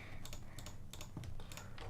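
Close computer keyboard typing mixed with mouse clicks, a quick uneven run of sharp taps over a low steady hum, with no talking.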